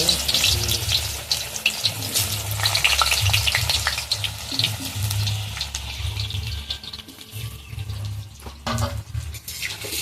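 Bay leaves and chopped onion fry in hot oil in a kadai, a loud, steady sizzle that runs throughout with occasional clinks and stirring scrapes.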